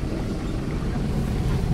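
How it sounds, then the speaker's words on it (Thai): Low, steady rushing roar of Jok Kadin waterfall, a constant broadband wash of falling water with some wind buffeting on the microphone, no voices. "นี่ครับน้ำตกจักริน"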